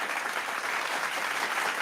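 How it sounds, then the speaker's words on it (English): Steady applause fills the whole stretch, dense even clapping from a crowd with no pauses. "you definitely have to take a round of applause to yourself"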